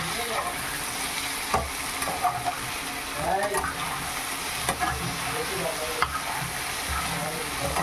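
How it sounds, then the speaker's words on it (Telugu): A potato fry is stirred in a hot pan on medium flame, with a steady sizzle and occasional scrapes and knocks of the spoon against the pan. "5 మినిట్స్కి ఒకసారి ఇలా కలుపుకోవాలి"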